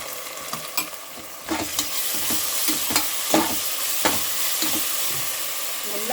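Ginger garlic paste fries in a pan with a dense, steady sizzle. A spatula stirs and scrapes it, giving repeated soft knocks and scuffs at an uneven pace.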